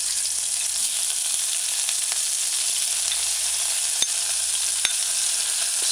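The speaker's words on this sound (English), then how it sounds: "use a cooking spoon and stir fry for a couple seconds" Chopped scallions sizzle and fry in hot oil while being stirred with a cooking spoon, a steady bright hiss with a few faint clicks of the spoon against the pan, close and continuous, no talking.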